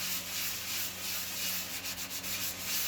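A cabinet door being hand-sanded with 120-grit sandpaper gives a steady, continuous rasping rub with a few quicker strokes near the end, moderately close and with no talk.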